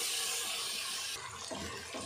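Water is poured into cooking masala for mutton paya, making a close, steady splashing hiss that lasts about two seconds.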